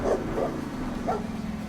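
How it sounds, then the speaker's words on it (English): Monster Mutt, a cartoon dog in the Monster Jam video game, gives a few short yappy barks, close and fairly loud, over a low steady game backdrop. "You can hear it in his bark."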